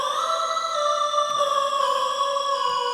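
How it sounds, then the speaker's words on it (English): A bright, buzzy square-wave synth lead for shoegaze holds sustained notes with slight pitch glides, steady and loud, with no other instruments. "So here's the lead synthesizer."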